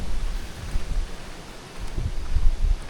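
Wind gusts sweeping through the leaves of a forest beside a lagoon, a soft, steady rustling hiss with low rumbling buffets that swell and ease over a few seconds, no voices.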